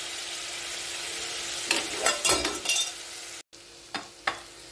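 Filling for cheese vada pav fries in hot tempering, a low steady sizzle broken by several sharp stirring scrapes and spoon clinks, then a brief pause and two more clinks.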